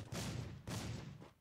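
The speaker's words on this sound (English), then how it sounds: "Okay, gunshots." Two bursts of distant gunfire in the video game Rules of Survival, each a rumbling volley lasting about half a second, with a low boom beneath; no talking.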